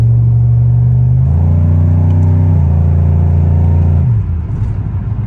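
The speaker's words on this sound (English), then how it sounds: "Very, very quick car. It gets up to the speed limit in 2 seconds." A cammed LS-swapped Pontiac G6 GXP accelerates hard, its loud engine note rising in pitch through a gear pull, then dropping sharply as it lets off near the end, heard close from inside the car.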